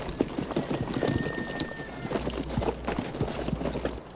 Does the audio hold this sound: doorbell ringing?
no